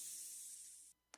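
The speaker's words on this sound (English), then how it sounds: "For each enemy, we have specific sound effects that play randomly throughout the game. For example, here's the snake," A snake hissing sound effect made for a student-built video game: one steady, bright airy hiss lasting about a second that cuts off abruptly, followed by a brief faint click.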